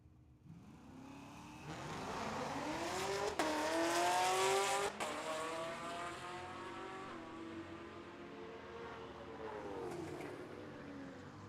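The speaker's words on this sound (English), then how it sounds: "Trevor decided to come out and flog on the Camaro a little bit today." A Chevrolet Camaro and an El Camino drag racing at a dragway: engines roar and rev upward in loud rising sweeps, with a sharp tire-squeal burst midway, then fading as the cars pull away down the strip.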